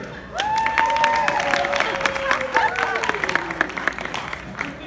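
An audience at a church Family Feud-style game show event applauds with scattered claps and cheering, and whistle-like tones rise and fall over the crowd.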